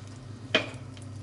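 Oil for a stir-fry of thinly sliced beef heats in a pan, giving a faint steady hiss over a low hum, with one brief sharp clink partway through.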